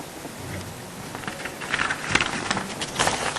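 Unseasonal winter rain in Kutch, a steady wash of rainfall with a few brief crackling bursts that may be distant thunder, moderate and continuous with no talk.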